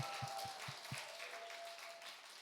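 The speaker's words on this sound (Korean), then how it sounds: "같이 박수로 축복하고 격려합시다" A church college-group congregation applauds and cheers for newly baptized members, a broad wash of clapping with a few low thumps near the start, fairly quiet and continuous throughout.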